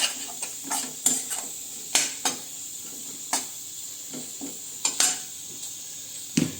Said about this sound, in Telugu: ఆనియన్స్ ఇంకా కొంచెం తొందరగా ఫ్రై అవుతాయి